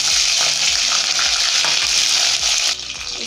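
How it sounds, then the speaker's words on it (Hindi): Garlic frying in hot oil gives a loud, steady, bright sizzle with crackling and occasional stirring scrapes, close up and without talk. "इसमें हम अपने ये लहसुन को थोड़ा फ्राई करके निकाल लेंगे"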